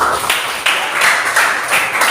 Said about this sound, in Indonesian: Oke, kasih tepuk tangan dulu buat Kalisa.